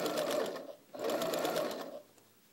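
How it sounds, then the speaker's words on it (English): A sewing machine stitches curved fabric pieces for a quilt block, running in two steady bursts with a brief pause between them, close and fairly quiet, with no talking. "now I'll continue sewing, always aligning with the tape so the last ½ inch of the curve is straight before it goes to the needle"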